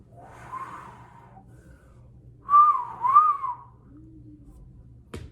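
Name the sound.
person whistling a tune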